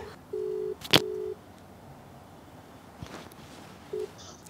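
Phone being dialed, heard as steady electronic call tones in short bursts, one long tone broken by a sharp click, then a brief beep, clear and close, with no talking.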